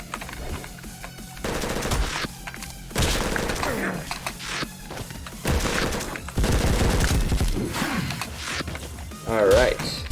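MP5 fire in the video game Madness: Project Nexus comes in several rapid automatic bursts with gaps between them, joined by thuds and booms, while someone talks over the action.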